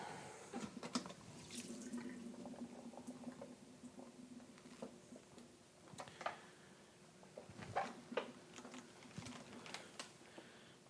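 Mushrooms being rinsed under a running kitchen tap, a faint splashing flow with scattered taps and drips as they are handled, fairly quiet and without talk.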